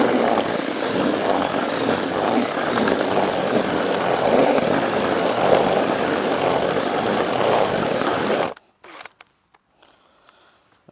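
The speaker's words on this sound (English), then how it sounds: "Lazy man's way today with a drill." A power drill mixing fishing groundbait with water whirs loudly and continuously for several seconds, then cuts off abruptly, leaving faint rustling and handling noises.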